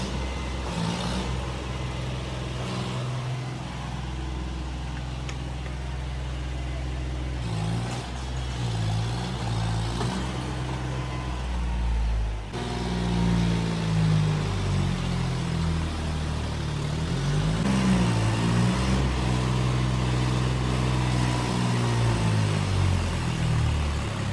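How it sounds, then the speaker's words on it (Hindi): A tractor engine, readied for a tochan pulling contest, runs loud and close with a deep steady rumble that rises and swells in revs through the second half, with no voices over it. "अब आपको रिस्पॉन्स चेक कराएंगे भाई, कैसा क्या रिस्पॉन्स है मेरे ट्रैक्टर का"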